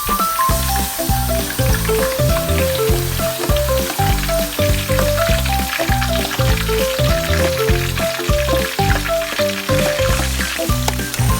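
Ground meat sizzles and crackles in a hot pan with sliced garlic and onion, a loud, steady frying hiss broken by rhythmic stirring scrapes, with no voices.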